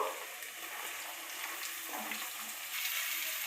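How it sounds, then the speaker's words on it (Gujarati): Vegetables sizzle in a hot tempering of oil and spices for Gujarati Panchvati vaghareli khichdi, a steady bright hiss that holds close and loud across the whole stretch with no voices. "આપણે બધા શાકભાજી લીધા છે એ વઘારમાં નાખી દેશું."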